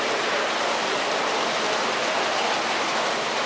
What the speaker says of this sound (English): The stream actually runs through the hatchery